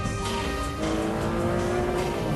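A loud Aston Martin Vanquish S engine pulls hard through the gears. Its strong, steady roar has a brief dip near the start, like a gear change, and no talk is heard.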